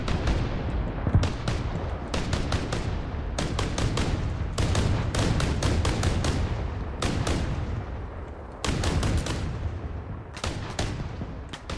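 Gunfire in the military sim game Arma Reforger during a Humvee assault, dense bursts of automatic fire and rapid shots rattling in clusters, loud and close, with continuous battle noise between volleys.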